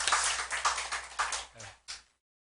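A church congregation claps in thanks after a sermon, a brief burst of clapping that fades over about two seconds, ending with a final isolated clap before silence.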